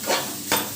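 Poha upma being stirred in a pan with a spoon, two quick scraping strokes close up, brief and soft.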